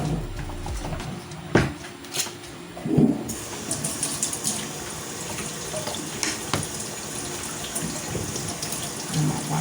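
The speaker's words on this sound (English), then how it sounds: "I'm gonna wash my onions." Running kitchen tap water splashing over onions in a sink, a steady close rush with a few louder splashes and clunks as the onions are handled.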